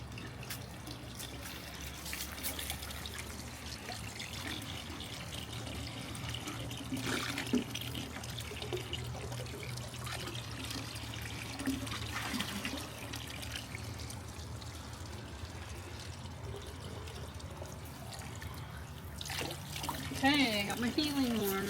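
Mineral water from a natural hot spring runs from a tap or spout, a steady soft splash and trickle, fairly quiet and continuous, with a few brief louder spatters near the end.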